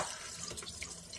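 Water runs steadily from a kitchen tap over fish being washed in a sink, with a constant splashing hiss and small irregular splatters.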